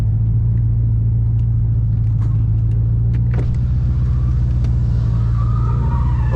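A Mustang with Volino wheels revs its engine hard while spinning a donut, a loud continuous low rumble that swells and surges throughout, with tire noise rising toward the end.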